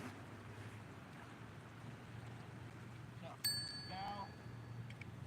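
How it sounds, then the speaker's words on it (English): A bell is rung once during a beach investigation, giving a sharp ding with a ringing tone that lingers for about a second. It sounds over steady wind and surf noise, with faint voices behind it. "Could you ring the bell?"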